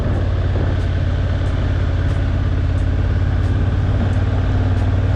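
A motorcycle rides along a road in wet weather, a dense, steady engine and road roar with wind noise that stays loud and constant throughout.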